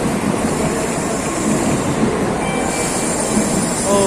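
A Shinkansen bullet train on the Tokyo–Kyoto line rushes past at a Japanese station, a loud, steady roar of air and rail noise that fills the whole stretch, with faint high squeals appearing near the end.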